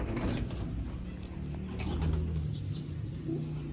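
Sialkoti pigeons cooing in low, steady throaty rolls close by, with soft wing flutters and faint background noise, no speech.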